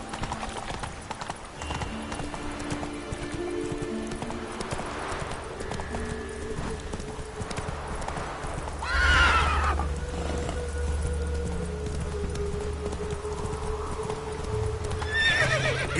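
Hoofbeats of a horse in The Witcher 3 video game clip-clop steadily throughout, with a couple of loud neighs and whinnies rising near the middle and again at the end, over a low game soundtrack.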